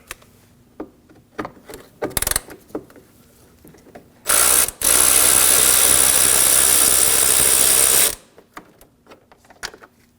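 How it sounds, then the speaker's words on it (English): A ratchet loosens a 10 mm bolt on the air intake shroud of a 2013-2015 Subaru XV Crosstrek, heard first as a few quick clicks, then as a long loud ratcheting whir lasting several seconds before it stops. "We're going to remove this bolt holding the air intake shroud."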